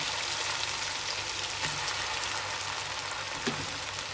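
Rice flakes (ada) dropped into ghee in a pressure cooker crackle and sizzle in a close, even hiss with scattered soft pops throughout, no voice over it.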